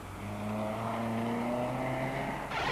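A Volkswagen Chico rally car in the N1 class charges through a mountain gravel stage, its engine a steady, close drone of sustained pitch that ends in a sudden burst of broadband noise.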